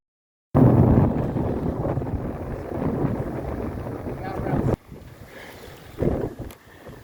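Wind roars steadily across the microphone aboard a heeled-over sailboat doing about 7 knots, loud and close for several seconds before dropping off into quieter rushing water and breeze.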